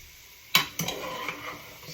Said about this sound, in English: Just beginning to stir down my vegetables as I continue to chop the rest.